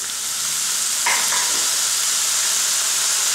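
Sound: chilli chicken frying in pan as soy sauce added

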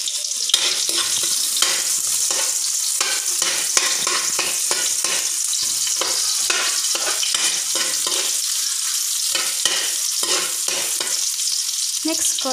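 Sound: garlic and onion frying and being stirred in a pan

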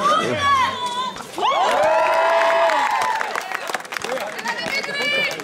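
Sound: crowd shouting at a basketball game

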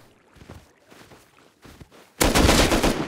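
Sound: gunfire in the video game Rust

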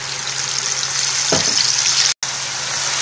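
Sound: spice masala sizzling in hot oil for jackfruit curry

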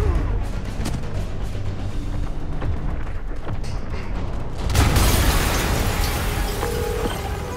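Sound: explosion in Marvel's Spider-Man video game

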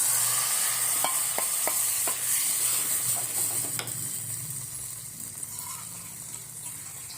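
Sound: dal added to sizzling tadka tempering in pan

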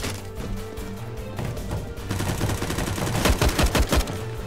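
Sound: gunfire in Counter-Strike (CSGO) video game

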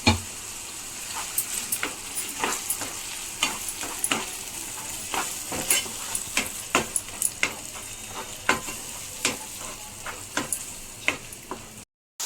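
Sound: tomato paste frying in a pan

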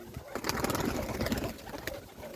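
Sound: pigeon cooing

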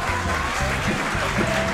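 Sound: applause

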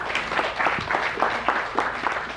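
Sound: audience applause for Dawn and Candy

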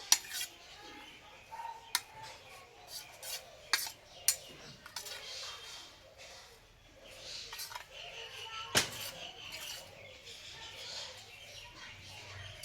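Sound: mixing onion and ingredients in a bowl with a spoon

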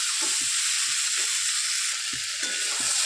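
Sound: potatoes frying and being stirred in a pan

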